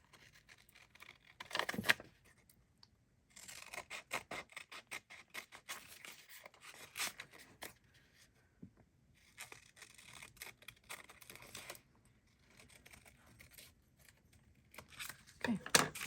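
Scissors cut through a double layer of glued paper for a craft journal, giving bursts of snipping and rustling across the clip with brief pauses between passes, fairly close and soft, with no talking.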